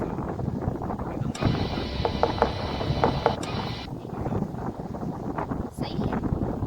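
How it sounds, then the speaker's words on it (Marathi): Cold wind blowing across a foggy hill near Matheran, gusty rumbling buffets against the microphone that swell and ease throughout, with no talk. "एकदम थंडगार वारा वाहत आहे"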